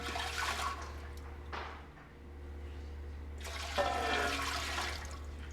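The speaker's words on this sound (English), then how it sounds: "we're going to do 3 quarts of water in the pressure canner" Three quarts of water poured into a pressure canner, a loud rushing splash that dips briefly midway, then surges again, close and continuous.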